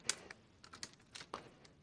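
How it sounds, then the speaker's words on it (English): Soft, quiet keystrokes tap on a computer keyboard in a short irregular run of about half a dozen clicks, close and alone with a faint background hum. "To install the new extension, we can simply start typing here the name of the extension."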